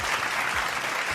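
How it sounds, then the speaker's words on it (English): A short, loud burst of dense applause fills the moment evenly, a close, steady wash of many hands clapping at once. "I get another round of applause"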